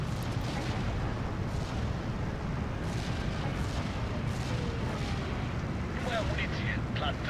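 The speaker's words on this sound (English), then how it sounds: "I didn't even see the bomb go off there." Bombs and artillery rumble through a 10v10 battle in Steel Division 2, a continuous, heavy booming barrage with overlapping blasts and crackling debris, loud and without a break.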